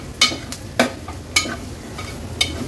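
Ground masala paste is stirred into hot oil for an Agri-Koli style ghol fish curry: a low sizzle punctuated by four sharp spoon scrapes against the pan at uneven intervals, with no talking.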